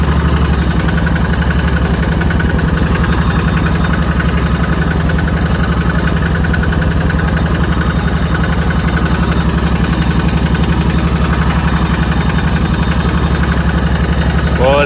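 A truck engine runs steadily and loudly throughout while riding in an open-air truck through a Thai village, with a constant rumbling drone and vibration and no talk.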